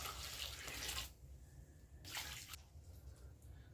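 Brewed compost tea poured over biochar made from fruit tree prunings, a steady splashing stream of liquid in two bursts with a brief quieter trickle between, close and fairly loud.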